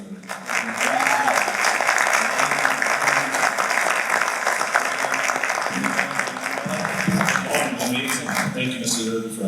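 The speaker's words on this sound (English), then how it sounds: "Give another round of applause for it." Sustained audience applause at a Martin Luther King commemoration event, loud, steady clapping from a large crowd filling the whole stretch without a break.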